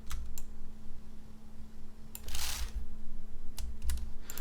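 Steady typing on a computer keyboard, with close, fairly loud key clicks in a continuous run and a few sharper bursts of strikes, and no talking.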